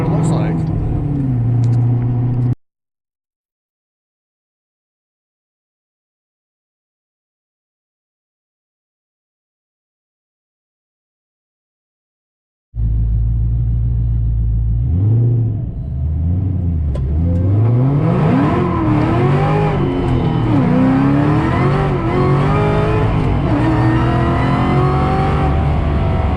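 A street car with a new belt and tensioner makes a hard boost test pull: a loud roaring engine, then a silent gap, then the engine rising sharply through the revs in rapid climbing sweeps.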